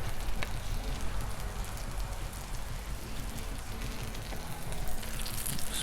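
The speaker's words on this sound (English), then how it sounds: "Now I'm gonna get the eggs going here." Eggs frying on a Blackstone griddle, a steady loud sizzle and crackle running continuously like rain, with no voices over it.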